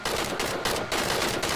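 Loud, close automatic gunfire from the video game PUBG crackles in rapid, nearly continuous bursts with two short gaps, and no voices.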